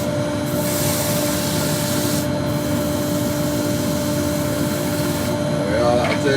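Rotary sander with 240 grit working a burr bowl, a continuous close whooshing hiss with no break in its level, with a brief squeak near the end.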